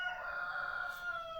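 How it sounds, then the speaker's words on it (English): A rooster crows once in a single drawn-out call, moderately distant, from chickens kept on a small home mini farm, with no talking. "So chickens are going to be competing with me."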